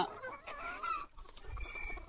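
Several free-range desi chickens cluck softly close by, a short run of throaty clucks and murmurs with light background noise.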